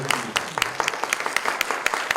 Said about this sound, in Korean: 박수 잘 들었습니다.